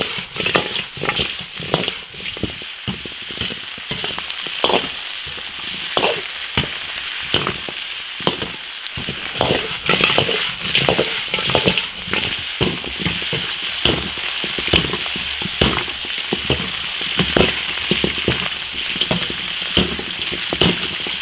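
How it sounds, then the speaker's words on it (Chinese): Pig trotters stir-frying in a hot iron wok with ginger, chili and spices: loud continuous sizzling broken by frequent scraping and clattering strokes of the spatula, close and busy throughout. "把猪脚煸炒一下，让它颜色更正。"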